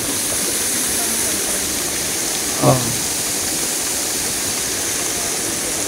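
Waterfall and river at Mahogany Falls in Trece Martires, Cavite, give a steady, even rush of water across the whole clip, with a brief spoken exclamation partway through.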